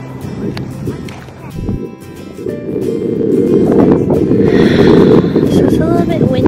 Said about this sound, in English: So it's a little bit windy